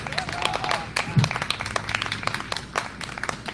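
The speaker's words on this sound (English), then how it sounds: "Another round of applause for Brandon." Audience applause at a live event in Wilkes-Barre, Pennsylvania, a steady patter of clapping with crowd noise filling the short stretch, moderately loud and continuous.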